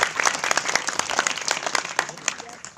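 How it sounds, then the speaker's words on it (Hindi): Students at a school award ceremony for top-scoring pupils clap together in a lively, sustained burst of applause that fills the room, with some voices mixed in. "जरा तालियां बजाइए बेटा"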